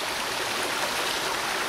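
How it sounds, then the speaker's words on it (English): Water drains out of a dug hole outdoors, making a steady, continuous rushing trickle with no pauses and no voices. "right now I'm draining the hole. You can see the water right over there."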